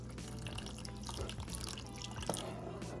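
Water trickles and drips steadily into a pot of Jamaican steamed fish, a soft continuous pour with small splashes over a low background hum, no talking.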